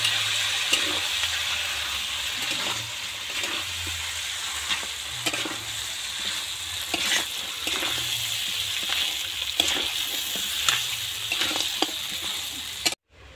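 Crab pieces stirred slowly in hot oil with spices, giving a steady close sizzle and crackle with scraping stir strokes throughout, no voices.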